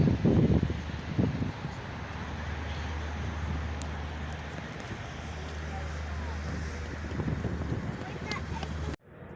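A police motorboat engine drones steadily in the distance on the Danube in Vienna, under heavy wind buffeting, with a low rumble that fades and gusts of wind on the microphone.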